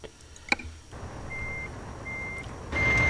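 Truck reversing beeps in American Truck Simulator, driving between Oxnard and Los Angeles with a bulldozer load: two steady, evenly spaced electronic tones over a low engine hum that swells louder at the end.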